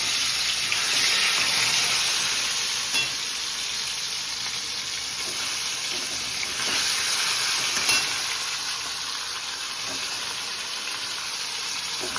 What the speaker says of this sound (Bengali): এখানে আমি ম্যারিনেট করা মাংসগুলোকে এবার রান্না করে নিচ্ছি